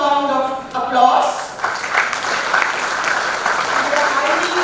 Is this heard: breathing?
no